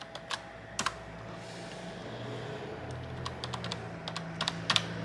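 Rapid typing on a computer keyboard, including a run of tab key presses while setting up an Asus ROG Ally, with irregular clusters of close, crisp clicks over a low steady hum.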